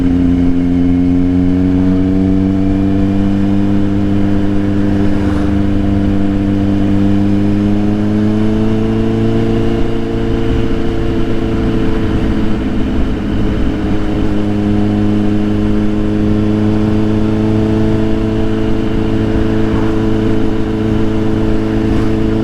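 A Kawasaki Z800 motorcycle engine drones steadily during a relaxed ride, a loud continuous hum with wind noise whose pitch rises and falls gently as speed changes.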